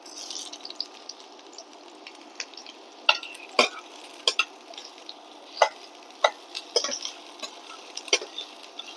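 Half a chopped onion fries in a pan with a low, even sizzle, while sharp spatula scrapes and clinks against the pan come irregularly and close up, and nobody speaks.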